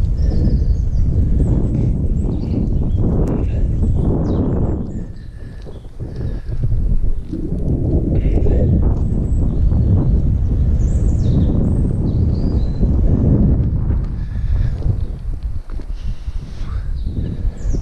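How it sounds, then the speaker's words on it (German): Stormy wind buffets an outdoor microphone on the way to an abandoned slate quarry, a heavy continuous low roar that swells and dips in loud gusts throughout. "Ja, es ist stürmisch"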